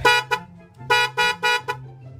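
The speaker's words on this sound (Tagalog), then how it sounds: "Itatry natin siyang pa-horn mga paps" A loud dual-tone horn on a Yamaha YTX 125 motorcycle honks in short bursts: two quick toots, a pause, then three longer blasts and a final short beep, close up.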